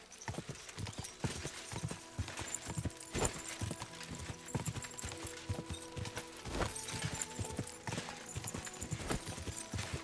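A horse gallops in the video game Kingdom Come: Deliverance 2. Its hooves keep a quick, rhythmic clip-clop for the whole stretch, fairly soft, with an occasional sharper knock.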